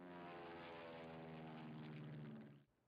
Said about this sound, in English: y'all remember my airplane sound?